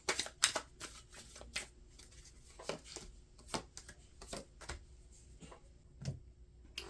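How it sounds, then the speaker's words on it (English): Tarot cards are shuffled by hand, giving quiet, irregular riffling snaps and soft taps in uneven bursts, close and faint, with no talking. "So let's go ahead and shuffle."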